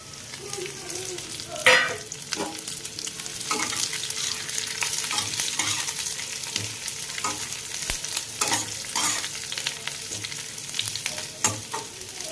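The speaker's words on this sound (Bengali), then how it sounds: "এবার এর মধ্যে দিয়ে দেব কারি পাতা আর কুচনো কাঁচা লঙ্কা" Curry leaves and chopped green chillies hit hot oil with browned onions in a pan, a loud continuous sizzle with crackling bursts and intermittent scraping stirs, close and without speech.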